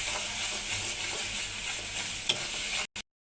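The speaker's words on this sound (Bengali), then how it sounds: "এবার মাছ দিলাম, মাছ দেওয়ার পর একটু সুন্দর করে লাড়া দিবেন" Fish frying and being stirred in a spice paste, a steady bright sizzle with scraping stir strokes running throughout, close and loud, no voices, cutting off abruptly near the end.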